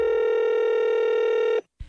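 Steady multi-tone telephone dialing beep for a prank call, loud and continuous for about a second and a half before cutting off abruptly into near silence.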